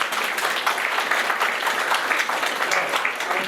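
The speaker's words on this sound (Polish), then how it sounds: "jeszcze raz brawa dla wszystkich autorów" Audience at a photography event claps for the authors, a steady, full round of applause from many hands filling the hall without pause.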